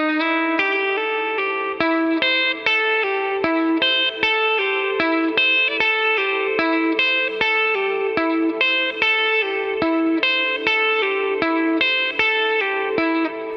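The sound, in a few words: Guitar solo lick played slowly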